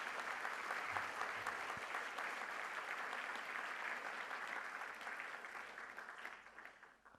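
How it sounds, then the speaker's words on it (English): A school audience applauds a secondary school being congratulated at an archdiocesan primary schools launch event, with steady sustained clapping from many hands that fades slightly toward the end. "So we give them a round of applause."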